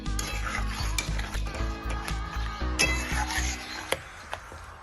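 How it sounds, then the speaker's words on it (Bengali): Young jackfruit is stirred in a pan with a paste of poppy seeds, sesame and cashew. A spoon makes rhythmic, close scraping strokes against the pan over a soft background sizzle, with occasional sharper clinks. "আবার একটু নাড়াচাড়া করবো"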